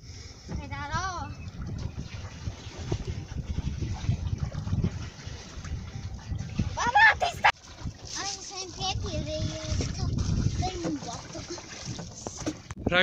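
Water splashes from a family swimming and using the slides on a pedal boat at sea, with splashing and sloshing running under steady talk and children's voices throughout.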